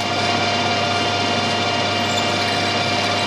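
A drill bit boring into stainless steel, a loud, continuous, steady mechanical whine and hum close by, with no pauses over the whole stretch.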